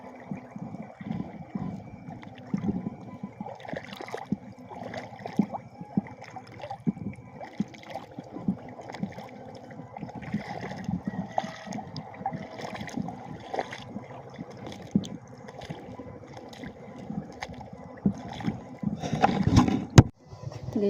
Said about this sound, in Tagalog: Meron ng tumutunog na bangka.